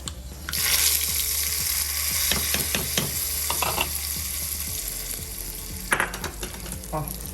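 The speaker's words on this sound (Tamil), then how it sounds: "ரிஃபைண்ட் ஆயிலே கொட்டுங்க. கடுகு வெந்தயம் உளுத்தம்பருப்பு." Mustard seeds, fenugreek and urad dal sizzle steadily in hot refined oil, a loud continuous crackle with a few stirring clicks and a brief spoon knock near the end.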